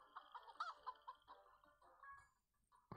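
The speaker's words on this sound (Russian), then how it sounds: "Петушки, петушки." Cartoon rooster clucks in a Save The Girl puzzle game, a string of short, faint, bright clucks.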